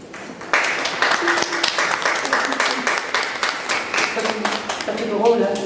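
Audience applause at a Fête de la Musique 2014 concert: dense, sustained clapping from a crowd filling the room, steady and loud throughout with a slight swell near the end.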